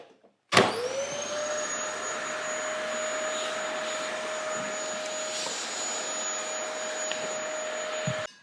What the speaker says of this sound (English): And I'm just gonna vacuum this.